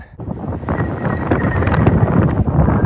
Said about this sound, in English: Wee bit breezy this afternoon.